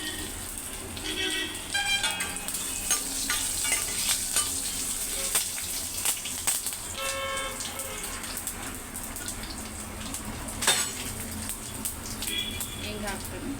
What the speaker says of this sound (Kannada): ಆಮೇಲೆ ಒಂದೆರಡು ಒಣಮೆಣಸಿನ್ಕಾಯಿ ಹಾಕ್ತೀನಿ, ಕರಿಬೇವು ಹಾಕ್ತೀನಿ, ಬೆಳ್ಳುಳ್ಳಿ ಹಾಕ್ತೀನಿ,